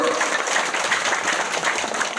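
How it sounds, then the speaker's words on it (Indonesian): An audience at a temple festival gathering claps together during a religious talk, a continuous, moderately loud patter of applause filling the space for a couple of seconds. "Tepuk tangan dulu Bapak Ibu."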